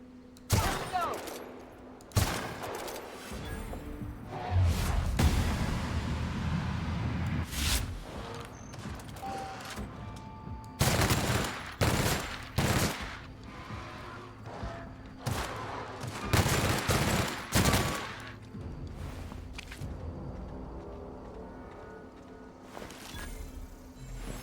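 Heavy machine gun fire in the sci-fi shooter The Outer Worlds, loud rapid bursts repeating in clusters with sharp cracks and booms between quieter gaps, with faint voices underneath.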